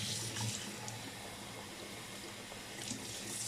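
Water runs and splashes steadily as a sausage casing is rinsed in warm water with vinegar while making a Tuscan cotechino, a continuous close hiss with no talking.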